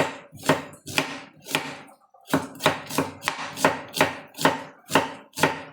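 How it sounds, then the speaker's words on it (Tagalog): Knife chopping onions or chili on a cutting board in a home kitchen, a steady series of sharp, close chops with a brief pause partway through. "Tapos, hiwa ako ng sili."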